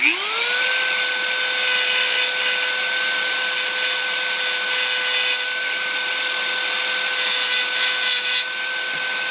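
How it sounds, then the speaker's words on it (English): A Dremel rotary tool grinds a plastic action figure with a high, steady whine that spins up at the start and holds loud and close for the rest of the clip, with no voices. "Make sure you hold your Dremel correctly and you wear safety goggles because it will kick up hot plastic while you're Dremeling."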